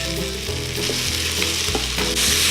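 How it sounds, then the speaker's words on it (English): Onions sauté in olive oil in a hot pot, a loud, steady sizzle and crackle heard close up without any talking. "I'm going to add some olive oil to the bottom and then saute the onions."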